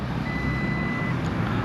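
Ampere Magnus Grand electric scooter creeping backward in reverse gear, its steady warning beep tone repeating under a constant background hum, with no talking.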